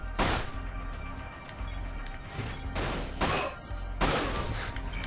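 Gunshots fire through a window in the Dirge of Cerberus video game: four loud, sharp blasts spread over about five seconds, each ringing out with a harsh, crashing edge over a steady game background.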